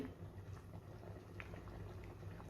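Rice for chicken biryani boiling in a pot of water, a soft, continuous bubbling simmer heard up close and fairly quiet, with no talk.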